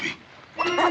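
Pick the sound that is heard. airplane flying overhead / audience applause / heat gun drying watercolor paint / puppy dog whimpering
puppy dog whimpering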